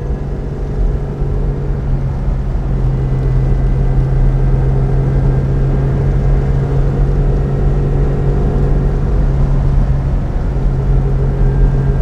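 A 1959 Mercedes 300 d Adenauer limousine on the move, its engine droning in a steady, loud low hum with road rumble that holds constant throughout, no voices over it.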